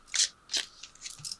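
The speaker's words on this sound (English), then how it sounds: "Let me throw a couple of these clarity cards." Chakra clarity cards from a tarot deck are shuffled close by, giving a few quick papery riffles and flicks with no talking.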